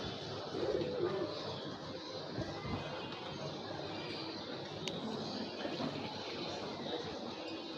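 A restless male pigeon coos with soft, low, repeated calls beneath a constant hiss of outdoor background noise.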